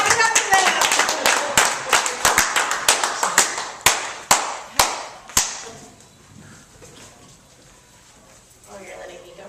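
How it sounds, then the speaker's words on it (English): A small audience at a roast battle claps in a sparse, uneven burst of distinct sharp hand claps that thin out and stop after a few seconds, with people talking afterward. "Clap it up for them."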